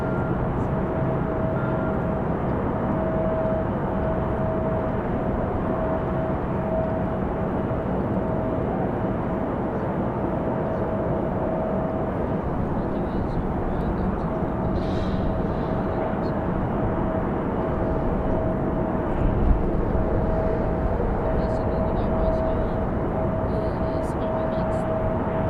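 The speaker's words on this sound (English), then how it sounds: "We also got Republic Airways 5805 coming in from Boston as well." A Republic Airways regional airliner arrives from Boston at Raleigh-Durham International, its steady engine roar filling the whole span at moderate loudness with a constant tonal whine, while a voice talks over it at times.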